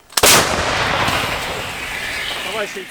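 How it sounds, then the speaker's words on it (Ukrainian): One loud, sharp artillery cannon blast booms out and rolls away in a long echo; a voice calls out briefly at the end. "Гармата! Постріл!"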